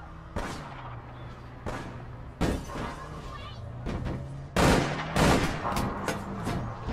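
Sniper rifle shots in APB Reloaded crack out as a handful of sharp, separate reports spaced a second or so apart, loud and close, with a faint hum underneath and brief talk between shots.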